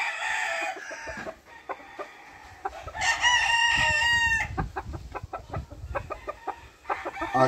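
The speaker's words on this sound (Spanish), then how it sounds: "Este es un gallino indio, indio rosón." An Indio Rosón rooster weighing 3.10 crows loudly and close by, with clucks and short calls before and after the crow.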